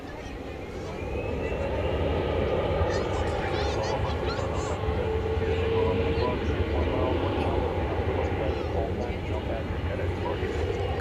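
Heavy jet airliners pass one another at DFW Airport, a loud continuous roar that swells in the first second and then holds steady for the rest, with a voice talking over it.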